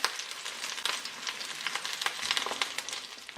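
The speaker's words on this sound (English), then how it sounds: "So I'm just going to pan fry these now 2 to 3 minutes per side." Sausages pan frying with a steady, bright sizzle and crackling spatters, close and continuous throughout, with no voices over it.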